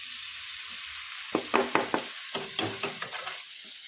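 Washed poha tipped into hot masala in a pan and stirred, a steady high sizzle broken by a quick run of close scraping, clattering strokes from the spoon.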